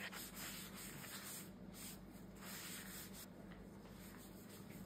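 Steady wet rubbing and wiping as a litho stone surface is cleaned with water, a continuous close scrubbing texture with gentle rhythmic strokes and no talk.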